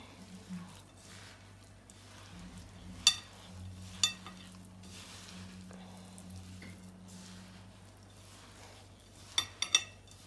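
Sellou made without butter, with olive oil just added, is stirred in a pan: faint, steady scraping and shuffling close by, broken by a few sharp utensil clinks against the pan.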